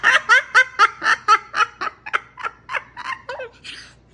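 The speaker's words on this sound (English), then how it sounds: "Preston, are you crazy, bird?" A pet parrot cackles in a loud, rapid string of raspy laughing bursts, close up and continuous, with no talking over it.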